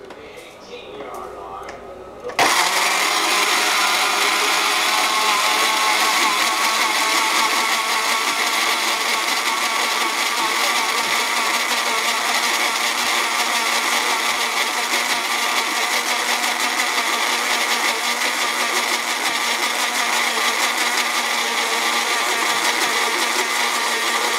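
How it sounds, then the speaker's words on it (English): After a short quiet moment, a blender kicks on abruptly and runs loudly and steadily, processing ginger and garlic, a constant high whirring roar that continues without letting up. "I'm going to plug up the blender and just engage the processor."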